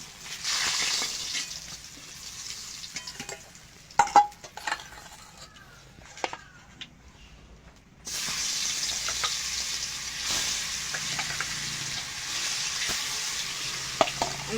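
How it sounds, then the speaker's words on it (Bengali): Pangas fish frying in oil in a kadai, a steady broad sizzle that drops quieter midway with a few clinks and stirring knocks, then swells back to a loud continuous hiss. "বাকি মাছগুলো ভেজে নেব।"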